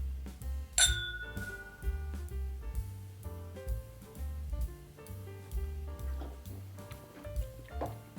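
A bright glass clink rings out once near the start of a rye whiskey toast, then fades under a steady, rhythmic musical backing with low bass pulses.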